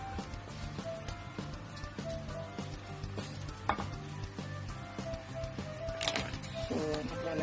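Shrimp cooking in a pan of bubbling milk and butter, a steady close sizzle and simmer with scattered stirring and utensil knocks throughout.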